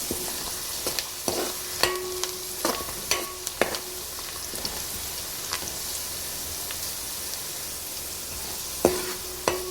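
Fish pieces coated with turmeric sizzle in a pan under repeated stirring, with a steady frying hiss broken by sharp scrapes and clinks of a spoon at irregular intervals.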